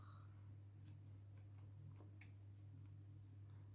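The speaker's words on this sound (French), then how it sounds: "mes ciseaux." Quiet, soft snips of scissors cutting paper for a scrapbook card, a few irregular clicks over a low steady hum.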